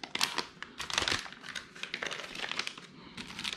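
Crinkly plastic packaging being pulled open around a 15.6-inch portable monitor, close and fairly loud, with bursts of crackling and rustling throughout.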